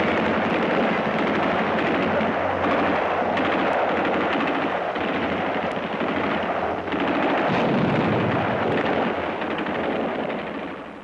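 Japanese artillery and mortar bombardment on a Pacific island battlefield, a dense continuous barrage of booms and rapid gunfire crackle, loud and unbroken, fading slightly at the end, with no voices.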